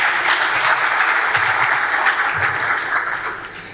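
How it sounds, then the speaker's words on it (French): Sustained applause from an audience at an industry panel session on the water economy, dense and steady clapping that fades slightly toward the end, with no voices over it. "sous vos applaudissements s'il vous plaît"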